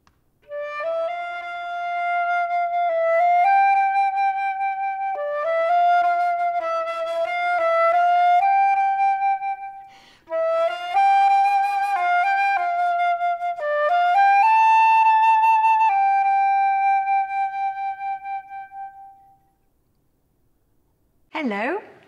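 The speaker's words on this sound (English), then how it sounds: "I play the flute, which sounds like this." A solo flute plays a bright, breathy melody in several phrases with brief pauses, then fades into silence before a short noise at the end.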